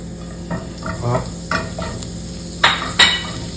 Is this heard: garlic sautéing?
yes